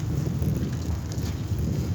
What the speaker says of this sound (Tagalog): nandito na naman tayo guys sa mahangin